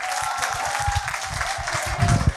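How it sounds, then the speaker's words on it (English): A masterclass audience breaks into dense, continuous applause, a full wash of many hands clapping at once, with low thumping underneath that grows heavier near the end. "let's give him a round of applause"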